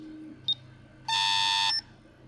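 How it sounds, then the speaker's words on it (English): A ZX Spectrum's built-in speaker sounds during a diagnostic test run from a replacement ROM, giving a tiny blip and then one clear, steady electronic beep of about half a second, close and alone over a faint hum. "let's just do a quick test, and you'll hear that the speaker is now working."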